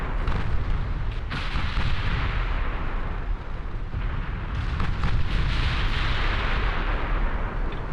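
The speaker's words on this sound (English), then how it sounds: "There are just explosions going off left and right." Dense, continuous battle noise from the naval game Ultimate Admiral Dreadnoughts, with artillery fire and explosions booming and overlapping over a deep rumbling bed, loud and unbroken with no talk.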